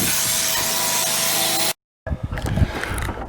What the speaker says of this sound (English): Devin Malone sharpening a chisel that got wore out